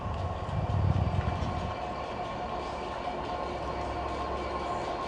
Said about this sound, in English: Oh no, it's just a lonely class 67.